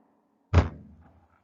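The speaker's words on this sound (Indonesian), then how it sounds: "bunyi ketika kita memukul meja" One blunt thud from a hand striking a table, a single close knock with a short decaying resonance in otherwise quiet surroundings.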